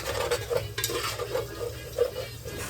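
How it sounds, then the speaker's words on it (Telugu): Tomatoes being stirred into frying masala for egg biryani, a spoon scraping and clinking against the pan in irregular strokes over a steady close sizzle, with no talk. "వేసుకున్నాక అవన్నీ మంచిగా మిక్స్ అయ్యేలాగా తిప్పేసుకోండి."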